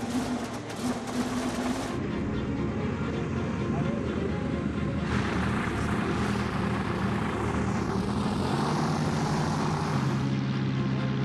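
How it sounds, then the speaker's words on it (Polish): Two original World War I biplanes, a Spad 13 and a Fokker D7, flying at an air show near Paris, their propeller engines droning loudly and continuously with shifting pitch as they pass, under a voice narrating. "Lecą dwa samoloty, oryginalne i wciąż sprawne. Spad 13 i Fokker D7."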